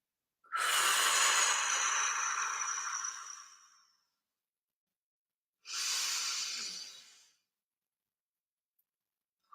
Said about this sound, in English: let's start with a few deep breaths in